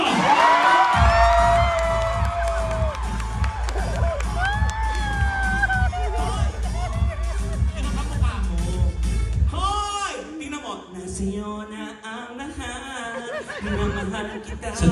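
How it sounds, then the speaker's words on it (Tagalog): A concert audience in Red Deer, Alberta cheers and whoops in bursts while an amplified host talks over the crowd noise. "Magpalakpakan na may kasamang hiyawan"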